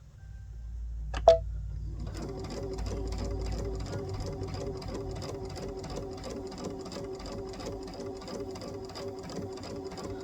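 A sewing machine stitches a zipper pouch, starting after a brief click and then running in a fast, even mechanical rhythm of repeated needle strokes, close and steady to the end.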